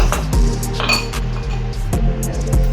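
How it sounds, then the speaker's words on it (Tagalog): One or two ice cubes clinking into a cocktail glass while a whiskey sour is prepared, a few bright close clinks and knocks against the glass. "So here is our glass na gagamitin para ngayon. And for that, lagyan din natin siya ng 1 to 2 piece ng ice."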